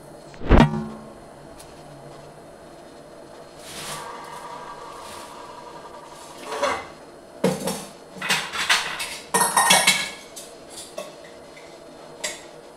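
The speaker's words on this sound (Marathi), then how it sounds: "हे इथं इडलीचे भांडे आहेत. ह्या भांड्याला पहिला आपण तेल लावून घेऊ." Metal idli steamer plates are handled and oiled, starting with one sharp clank, then scattered clinks and rattles that thicken into a busier run of metallic clatter toward the end.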